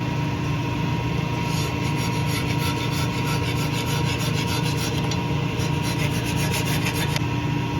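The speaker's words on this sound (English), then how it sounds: "That's where the scraper comes in handy, or something that's more like sandpaper." A scraper or sandpaper-like tool rasps rust scale off a hot water pump, a steady, loud, continuous grinding scrape with no pauses, close up.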